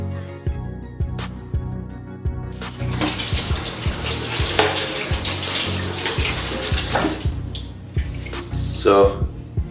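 Running tap water splashes over a non-stick pan as it is washed clean of grease stains, with a steady rush of water and a rhythmic pattern of scrubbing throughout.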